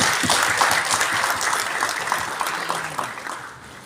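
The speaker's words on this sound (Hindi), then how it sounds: "एक बार जोरदार तालियां बालियान साहब के लिए।" A crowd gives steady, moderately loud applause for a retiree at a retirement program in the Lok Sabha, the clapping fading a little toward the end.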